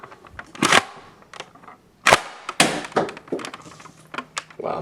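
A Nerf N-Strike Thunderblast foam rocket strikes with a loud bang, among several sharp close impacts and thuds spread irregularly over a few seconds.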